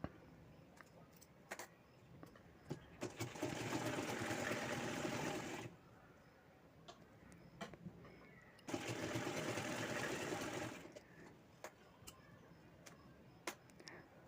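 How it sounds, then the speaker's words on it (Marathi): Sewing machine stitching four small triangular fabric pieces into a homemade plate cover, with two sustained bursts of steady whirring separated by quieter handling clicks and ticks. "इथे आपण चारही पीस शिवून घेतलेले आहेत"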